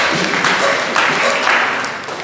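A congregation at Saint Peter's church breaks into applause, a broad wash of many hands clapping with a few louder swells before it fades slightly toward the end.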